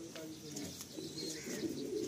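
A male Madrasi pigeon in a loft in Kolkata coos steadily and close by in a low, throaty murmur, with soft background chatter and faint rustling underneath.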